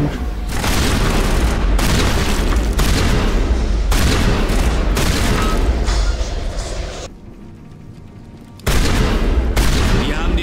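Shotgun blasts from the video game Mass Effect: loud, dense, booming bursts that run back to back, break off into a brief lull, then resume at full strength.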